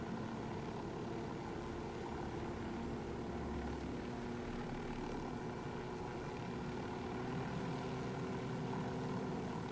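Helicopter flying in the video game Ghost Recon Wildlands, a faint, steady low rotor and engine drone heard continuously from inside the aircraft with no talking.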